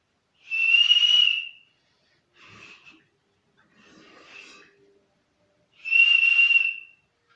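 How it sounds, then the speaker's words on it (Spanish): An ancient Chorrera-culture clay whistle bottle, its lower part missing, sounds in breathy, high tones: two strong sustained notes bracketing softer, wavering ones, with quiet pauses between, played alone. "un sonido de hace miles de años de este vestigio arqueológico de la cultura chorrera, de una botella silbato"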